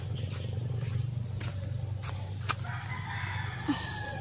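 A rooster crows once near the end amid soft clucking and quiet ambience in a small garden plot, with a steady low hum beneath.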